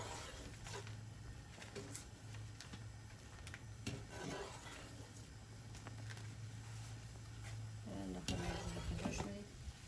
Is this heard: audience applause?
no